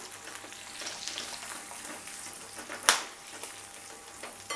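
Green and red chillies with ginger sautéing in a pan for guava chutney, a faint steady sizzle with one sharp clink partway through, heard close with no voices.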